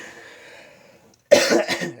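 After a brief quiet stretch, one loud, harsh cough bursts out close by and trails off into rough throat noise.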